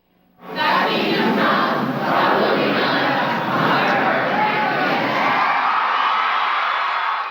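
A crowd of about 3,000 people rises and cheers in a small school gymnasium, a loud sustained roar of voices and whoops that swells suddenly and holds steady.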